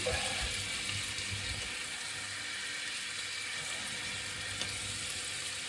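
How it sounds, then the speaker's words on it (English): Marinated beef steak strips fry in a large pan with oil and butter, giving a continuous, even sizzle and hiss with no clear breaks. "that's all the steak strips in the pan with the oil and the butter"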